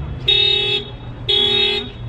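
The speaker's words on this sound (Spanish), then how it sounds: "Los niños se van con la alarma del carro." A car alarm honks twice, each a loud, sustained half-second horn blast about a second apart, over low engine or traffic rumble nearby.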